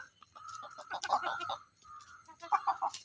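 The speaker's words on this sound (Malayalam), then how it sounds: "അതാ കോഴി പരലിനെ അടിക്കണ" A chicken clucks and calls in short bursts while striking at small fish in water near a homemade fish trap, fairly faint, with soft splashy movement beneath.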